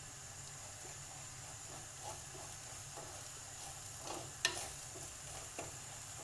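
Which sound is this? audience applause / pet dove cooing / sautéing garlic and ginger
sautéing garlic and ginger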